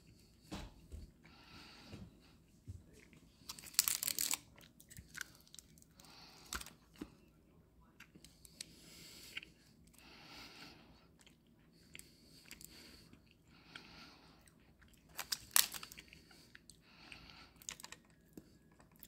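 Quiet, close chewing of very hard, dense fudge from a WW2 German Wehrmacht iron ration, with irregular crunchy bites and a few sharper cracks spread over the stretch and no talk.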